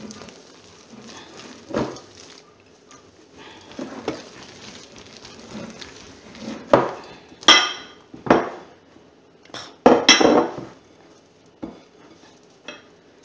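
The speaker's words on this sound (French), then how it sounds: "On va les mélanger doucement, délicatement avec le mascarpone." A spatula folds beaten egg whites into mascarpone in a bowl for tiramisu, producing soft irregular scrapes and several sharper knocks against the bowl, close and alone.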